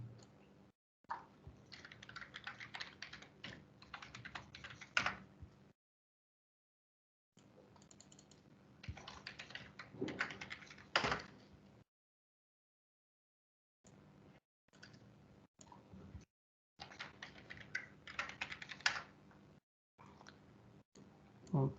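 Computer keyboard keys clicked in quick bursts while entering an email address and password at a login page, with a few short pauses between runs of typing, fairly quiet and close.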